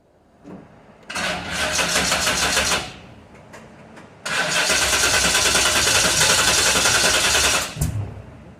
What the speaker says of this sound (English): it's got a 460 in it. Big block. I'll crank it up and let you hear it.